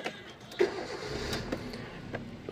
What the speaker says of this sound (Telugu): ఇంజన్ స్టార్ట్ చేసి చూపిస్తాను మీకు.